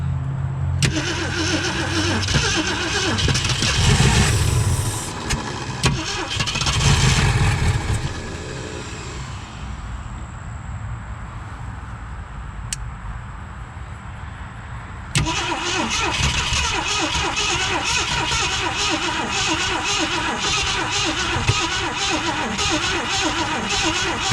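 Ford Galaxie under revival, its engine cranking and catching in rough bursts, then dropping to a quieter stretch before firing up and running steadily at a loud, close idle for the final seconds.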